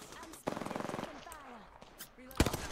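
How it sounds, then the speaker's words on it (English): Gunfire in the video game Apex Legends: a rapid rattling burst, then scattered cracks and a sharp loud shot near the end, with a voice talking in between. "Oh, we're being sniped."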